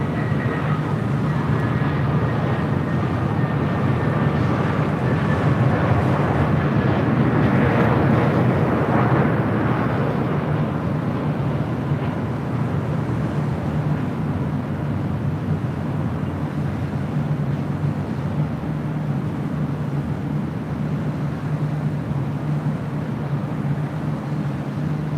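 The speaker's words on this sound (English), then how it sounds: "That is Delta Airlines Flight 991 heading to JFK in the 767-300ER" Delta Air Lines Boeing 767-300ER jet departing LAX, a loud steady roar of jet engines that swells over the first several seconds, then holds as a broad, continuous rumble to the end.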